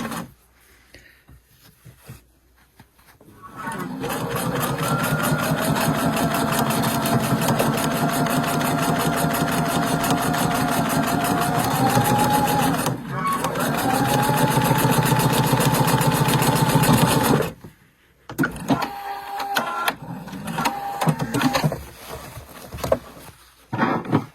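A Pfaff sewing machine chain piecing rail fence quilt blocks runs in a loud, steady whir of fast stitching for about fourteen seconds with a short pause, then stops, followed by quieter handling clatter.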